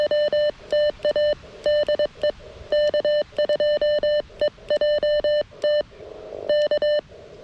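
Morse code tones ring clear and loud from an Elecraft KX1 transceiver, short dits and longer dahs keyed in quick rhythmic groups over a faint background hiss.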